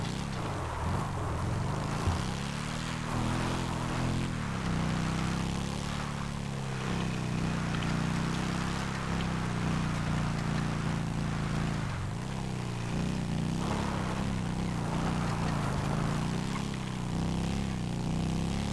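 Steady motorbike engine drone in a zombie survival roleplay video game, running loud and continuous with rising and falling revs throughout, with no talk over it.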